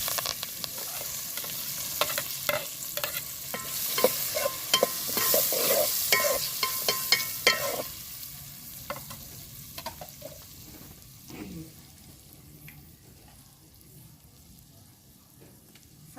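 Green chillies and onion fry in a pan while a spoon stirs them, loud sizzling and scraping at first that fades to a quieter hiss with occasional spoon knocks, no talking.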